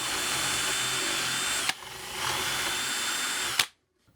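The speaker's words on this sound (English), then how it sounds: "And we need to mark our angle iron and drill it." A power drill bores into steel angle iron in a workshop, whining loudly and steadily, briefly dipping in pitch midway before resuming, then stopping abruptly and falling to silence.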